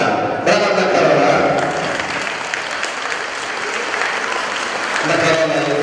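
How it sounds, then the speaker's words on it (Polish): Audience applause for a third-place prize winner at a Polish award ceremony: steady, dense clapping from a sizable crowd through most of the stretch, with a voice speaking over the start and again near the end. "Brawa dla Karola."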